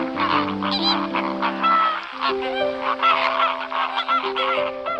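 Aquatic birds honk and call in the coastal wetland marshes of Bahía de Cádiz Natural Park, loud goose-like cries repeating over sustained musical tones.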